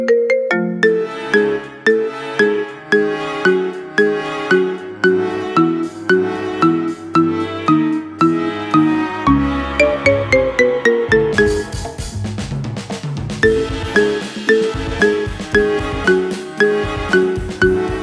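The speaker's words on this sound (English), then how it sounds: "Make your phone ring with the best ringtone of the year." Marimba remix of the Mad Men theme played as a ringtone: bright mallet notes in a repeating rhythmic pattern over bass, loud and clean, with a busier percussive break midway before the melody returns.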